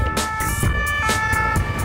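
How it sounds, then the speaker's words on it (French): Municipal police cars race along a seafront with sirens wailing, a loud steady siren tone over rushing traffic and road noise, no voices. "Lancés toutes sirènes hurlantes sur le front de mer"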